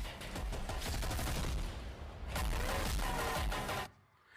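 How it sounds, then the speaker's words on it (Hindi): Rapid gunfire and blasts from a CISF commando demonstration at a Raising Day parade, a dense loud volley of shots rattling continuously for several seconds before cutting off. "एक और दिल दहला देने वाला धमाका, दुश्मनों का घातक वार।"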